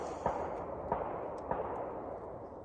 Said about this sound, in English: that's gunfire. I don't know what's up with that.